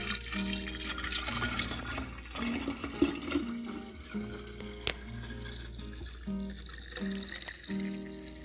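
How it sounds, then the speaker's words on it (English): Carrot juice mixed with Guinness Stout, a Jamaican-style holiday drink, poured into a pitcher, giving a continuous liquid gurgle and splash that runs for several seconds, close and steady with a few louder sloshes. "So now I'm gonna pour it in my pitcher."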